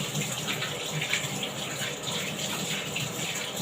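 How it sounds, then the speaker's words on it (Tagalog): Hands being washed under a running faucet before slicing onions, a steady close hiss of tap water splashing and gushing continuously with small shifts as hands move through the stream. "So, hugasan natin yung kamay."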